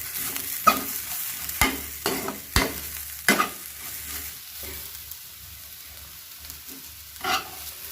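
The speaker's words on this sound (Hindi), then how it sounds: "अब इसे अच्छे से मिक्स कर लेते हैं।" Spoon scraping and stirring food frying in a pan, with irregular clanks and scrapes over a faint sizzle, close and fairly quiet, the strokes spaced unevenly and easing off toward the end.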